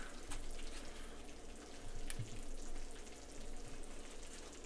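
A hot dog on a Hawaiian roll frying in a buttered pan, giving a steady, fairly quiet crackling sizzle that holds throughout with no talking.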